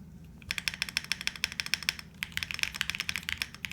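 Typing on an ARC 60 mechanical keyboard, a steady run of crisp, close keystrokes with a brief pause midway before the rapid clacking resumes, with no voices.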